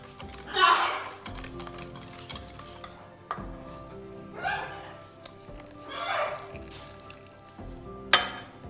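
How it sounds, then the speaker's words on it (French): Batter with liquid cream is whisked in a bowl in several separate bursts of brisk, scratchy strokes, each a second or so long, with light taps and clinks against the bowl between them and a sharp knock at the close. "on remue énergiquement, voilà, on fouette énergiquement"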